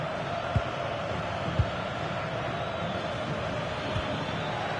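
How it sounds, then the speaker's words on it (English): Stadium crowd in the football video game FIFA 26 during a Colombia versus Ghana match, a steady broad roar of distant spectators with a few faint thumps, continuous and moderately quiet. "Well, the crowd is certainly trying to motivate the team to push them forward to get the equaliser."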